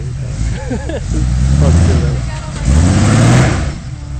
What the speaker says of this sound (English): There'll be some more spinning of tires.